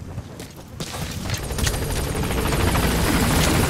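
A helicopter arrives at a landing zone in Metal Gear Solid 5, its steady rotor thump and engine roar growing louder and nearer.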